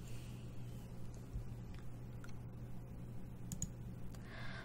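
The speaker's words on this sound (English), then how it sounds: "even though I'm typing on a MX Red mechanical keyboard, it still hears just about everything" Typing on an MX Red mechanical keyboard, quiet and continuous: soft irregular key clicks over a low steady background hum, with no voices.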